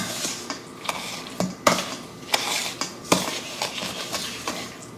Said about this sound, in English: And now we beat again until smooth. Scrape the sides of the bowl as necessary.